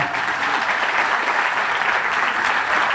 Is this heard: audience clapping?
yes